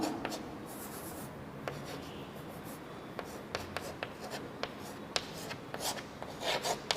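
Chalk or marker scratching and rubbing across a classroom board as a chemistry rate expression for H2 formation is written out, a steady run of short strokes with sharper taps, close and alone with no talking.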